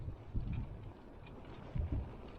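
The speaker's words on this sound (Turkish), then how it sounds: "Havalar çok rüzgarlı." Wind buffets the microphone in low, rumbling gusts on a street in Vlaardingen, Netherlands, with a couple of stronger bursts and no voices.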